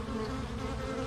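Honey bees at an active hive after a swarm returned, a dense, continuous, close buzzing drone that holds steady without breaks.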